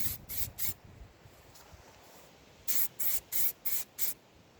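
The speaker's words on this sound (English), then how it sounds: "spray a heavy coat of lacquer" Spray gun applying a heavy coat of lacquer to an alloy wheel during DIY refurbishment: three short hissing bursts, a pause, then five more regular spray passes, close and fairly quiet.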